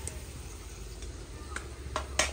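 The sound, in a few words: sautéing biryani masala with a ladle in a large pot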